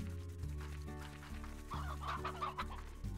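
Farm hens in the video game Slime Rancher cluck in a run of short, repeated calls over a steady droning musical background, with no talking.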